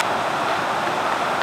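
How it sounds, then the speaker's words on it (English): A woodland waterfall on a river roars steadily, a dense, continuous rush of falling water heard close up with no break or voices. "We're in our woods down at the waterfall."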